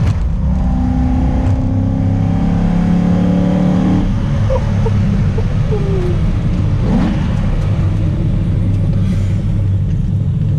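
A 1974 Alfa Romeo Montreal engine revs hard and loud up close, then drops back to a deep, steady rumbling idle.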